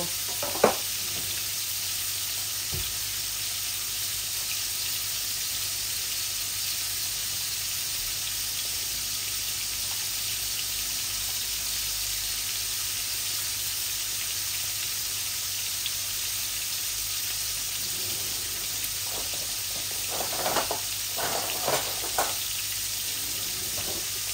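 Cumin seeds and bay leaves sizzle in hot oil in a cooking pot, a steady hissing fry that runs throughout, with a few soft utensil clinks and stirring noises toward the end and no speech.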